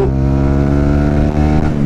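Several road vehicles accelerate close by with a steady, loud engine drone and rising harmonic tones that hold for about two seconds without any speech.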